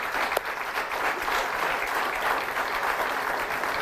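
Steady audience applause during a talk on parenting and money, a dense continuous patter of many hands clapping at moderate level with no voices over it.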